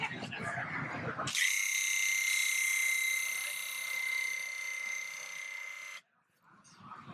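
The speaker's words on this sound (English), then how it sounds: "So that's with the machine at 10." A Graco Ultra airless handheld paint sprayer runs at full speed setting 10, a loud steady high-pitched motor whine that holds for about five seconds, then cuts off abruptly, with brief talk before and after.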